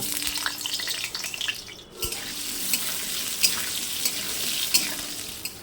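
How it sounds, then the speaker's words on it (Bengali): Potatoes frying in hot mustard oil in a kadai, a close, continuous crackling sizzle with occasional stirring scrapes. "সরষের তেল গরম হয়ে গেলে তাতে আলুগুলোকে ভেজে নেব।"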